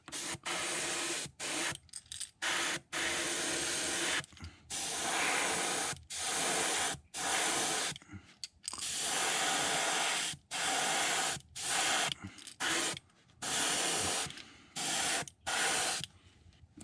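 Yellow spray paint hisses onto a crankbait fishing lure in repeated bursts of varying length separated by brief pauses, loud and close with no talking.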